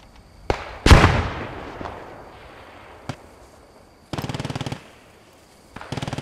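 Gunfire in the WWII shooter game Post Scriptum: a few sharp single shots, one loud crack with a ringing decay, then two rapid automatic bursts, loud and close.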